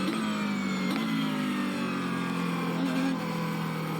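A car engine in a racing video game revs and drones steadily at a moderate level, its pitch gently sliding up and down as the throttle changes, with no talking over it.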